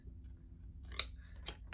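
Scissors snip a slit into shrink wrap for packaging handmade earrings: a few short, crisp cuts close by in a quiet room, the sharpest one near the middle.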